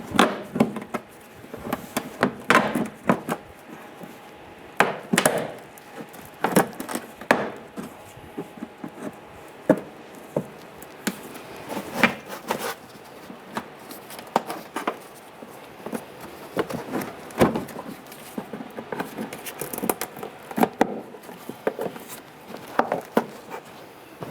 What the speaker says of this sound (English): I'm going to use a trim tool here, and what I'm going to do is go ahead and tuck this in, rolling this in underneath the lip